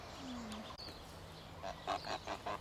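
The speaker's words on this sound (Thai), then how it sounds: "เป็ดน้ำเป็ดน้ำ" Wild ducks and ducklings in New Zealand, a few honking quacks near and clear in a quick run toward the end after a quieter stretch, with no talking.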